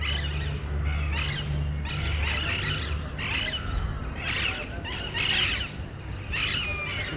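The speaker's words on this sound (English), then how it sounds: "there are a lot of parrots" Parrots squawking and shrieking in repeated harsh bursts roughly every second, the flock sounding moderately close, over a low steady hum and with no talking.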